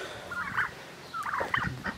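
A turkey gobbling on a poultry farm, two distinct rattling gobble calls a moment apart, fairly close and clear over quiet background noise.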